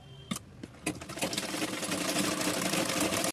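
Sewing machine stitching a wide strip onto a blouse sleeve opens with a few separate clacks, then settles into a steady, close, rapid mechanical whir that runs until it stops abruptly.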